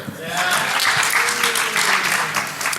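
A large crowd at the DEF CON 21 awards cheers and claps loudly and continuously, with scattered shouts rising over dense, steady applause.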